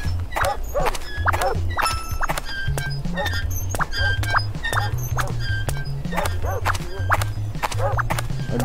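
Dog barks from the video game Blinded Guide, a guiding game for the blind, sounding repeatedly over looping game music with other animal-like effects, including horse-like clip-clops.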